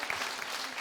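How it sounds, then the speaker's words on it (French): Studio audience applause on a television variety show, a short, steady burst of many hands clapping at once, filling the room evenly without a clear break. "Merci d'applaudir pour mon collègue Apouchou"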